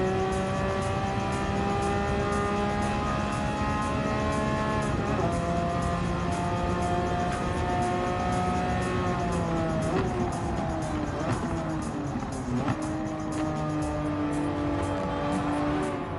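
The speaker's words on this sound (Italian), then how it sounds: "Vi faccio sentire anche un po' il motore" Car engine in the racing game Gran Turismo 7, a steady loud engine drone with rising and falling pitch as revs shift, continuous throughout with no talking.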